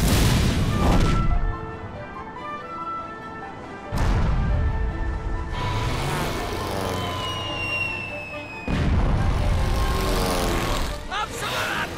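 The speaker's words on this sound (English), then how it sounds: "Prime the cannons!" Repeated heavy booms like cannon blasts in the video game Ni No Kuni: Wrath of the White Witch, several loud bursts spaced a few seconds apart over music and effects.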